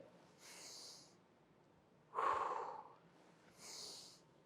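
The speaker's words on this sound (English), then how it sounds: "On the way in, inhaling. On the way up, exhaling." Slow breathing during a hip mobility exercise, with a soft airy exhale, a louder, fuller breath in the middle, then another gentle breath, all close and fairly quiet.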